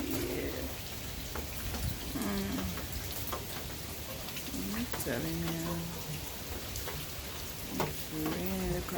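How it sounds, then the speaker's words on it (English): Steady rain hisses down in a yard in Jamaica during Tropical Storm Grace, a constant close wash of drops, with a voice speaking over it now and then and several soft dove-like coos. "It's raining."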